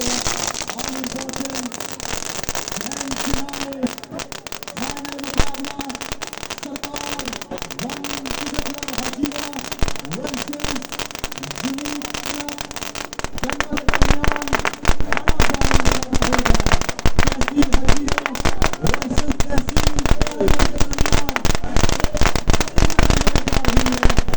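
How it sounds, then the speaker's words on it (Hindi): Fireworks and firecrackers go off during a street rally in Lahore: continuous dense crackling and popping, with a rhythmic chant of crowd voices underneath. The bangs grow louder and denser in the second half. "शानदार तरीके से आतिशबाजी का ये सिलसिला इस वक्त चलता हुआ जारी हो जारी है।"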